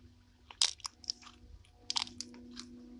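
Crunchy slime packed with tiny foam beads is squished by hand. It gives a few sharp crackling crunches in two short clusters, close up over faint background hum.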